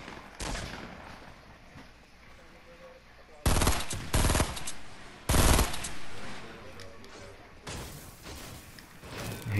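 Video game gunfire in triple bursts, with several sharp, loud clusters of shots separated by quieter stretches of background game noise.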